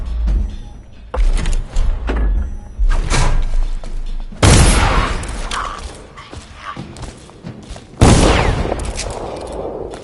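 Heavy cannon fire in the stealth game Dishonored, several loud booming blasts with sharp onsets, the strongest two landing partway through and near the end, separated by clanking, thudding mechanical noise.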